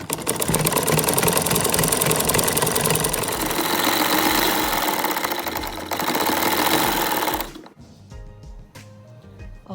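A sewing machine stitches elastic onto fabric for ladies' trousers, its steady, close, rattling whir running for about seven and a half seconds before cutting off into near quiet.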